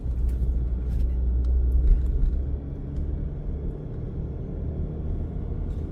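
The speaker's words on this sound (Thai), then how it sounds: "ในกล้องน่าจะได้ยินเสียงเครื่องนะ" A Ford Ranger Sport 4x2 pickup with a six-speed automatic drives slowly down a steep mountain road with braking, giving a low steady engine and road rumble heard from inside the cab.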